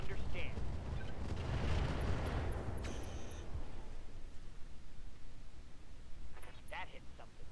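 Mech weapon fire in the video game Roguetech, a heavy rumbling barrage of booms and blasts that swells early then trails into a low sustained roar with small beeps, while someone talks.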